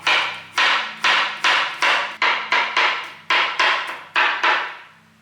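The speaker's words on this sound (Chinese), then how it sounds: "把姜切成姜末" Knife chopping fresh ginger into fine mince on a cutting board, a steady run of about fifteen crisp close taps in quick even rhythm, no talking.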